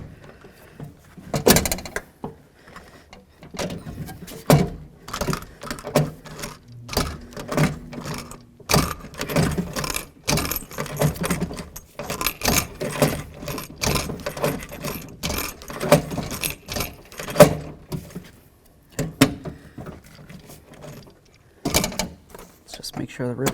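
Rivets are set to fix a window regulator inside the door of a 1988-2002 GMC Sierra 1500 truck, giving sharp metallic clicks and snaps in irregular bursts, close up, with someone talking in between.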